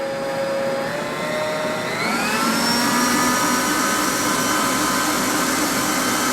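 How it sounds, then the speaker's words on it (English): An electric mixer creams butter and brown sugar for Scottish shortbread, a loud, steady motor whine that rises in pitch partway through and then holds. "So I am going to just cream my butter and my sugar."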